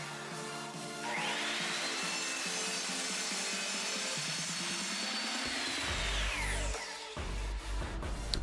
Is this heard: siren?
no